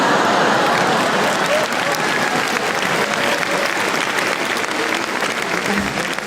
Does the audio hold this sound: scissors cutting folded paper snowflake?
no